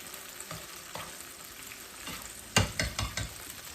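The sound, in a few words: ackee added to frying garlic in pan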